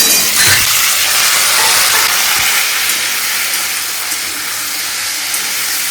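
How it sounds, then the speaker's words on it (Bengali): Potatoes fry in a pan with a loud, continuous close sizzle and hiss that holds steady throughout, with no voices. "আলুটা ভেজে নি"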